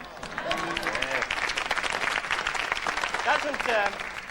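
An audience at a magic show applauds in a dense, steady wash of clapping that rises slightly toward the end, with someone talking over it throughout.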